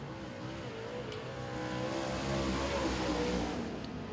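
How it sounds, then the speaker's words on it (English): A super late model race car accelerates down the back stretch at Thunderhill Raceway during qualifying, its engine note rising and swelling louder before levelling off, with a faint crowd-like hiss underneath. "So David Gentry hits the loud pedal and runs it down the back stretch with Jim Gray also in tow."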